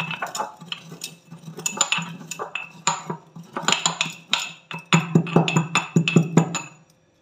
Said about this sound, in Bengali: এরকম একটা হামানদিস্তা মৌরিটাকে একটু ক্রাশ করে নেব